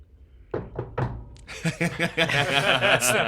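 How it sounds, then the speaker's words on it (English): Several hard knocks on a door, struck with both hands, a few separate loud thuds followed by a voice talking over a rapid run of knocks. "Suddenly there is a knock at the door."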